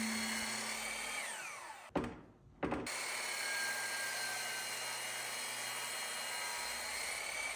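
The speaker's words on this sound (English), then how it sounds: "You can see the saw blade through the translucent epoxy as it just cuts right through it." A power saw blade cuts along the edge of a translucent epoxy table, a steady loud whine running throughout, broken by a brief pause near the middle before cutting resumes.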